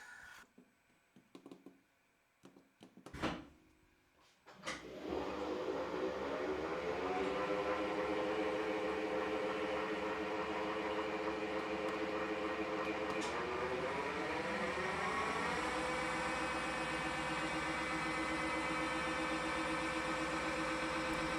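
A Schaublin lathe spindle spins up in back gear after a few clunks, settling into a steady close mechanical whine with layered gear tones that shift pitch partway through.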